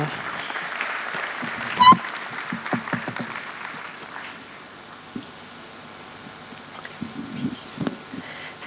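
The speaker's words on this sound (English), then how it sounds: "Let's give him a round of applause" Audience applause at the 10th ICBMED conference hosted by UPSA, a moderate wash of clapping that fades after a few seconds, with voices talking under and after it.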